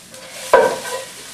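Brussels sprouts roasting in a hot cast iron skillet give off a soft, steady sizzle, with a brief louder hiss and scrape about halfway through as the pan is handled.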